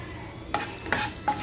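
Dried chili and asafoetida temper in hot oil for a spicy garlic chutney, with a low background sizzle broken by three quick stirring scrapes and clinks of a spoon against the pan.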